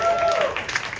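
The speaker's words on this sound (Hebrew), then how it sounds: "מחיאות כפיים לאישה!" Applause from a comedy roast audience for a drag performer, a brief burst of clapping that starts full and thins out within a second.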